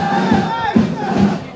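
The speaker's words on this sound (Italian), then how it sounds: "Grandissimo tifo da parte dei sostenitori dell'Euro Girifalco, davvero uno spettacolo immenso quello che stiamo vedendo e stiamo assistendo, un incessante e continuo rumoreggiare" Supporters in the stands at an amateur football play-off final roar and chant together in a loud, dense, continuous crowd noise.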